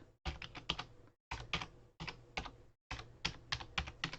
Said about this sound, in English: which hopefully I've typed in correctly